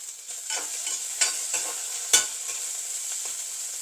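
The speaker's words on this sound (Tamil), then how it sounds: "இப்போ இந்த கொஞ்சம் நல்லா வெண்டிக்காய் கொஞ்சம் நல்லா எண்ணெயில் வதங்கட்டும்" Okra frying in oil in a pan, a steady bright sizzle with soft stirring scrapes and a few sharper spatula knocks, close and alone.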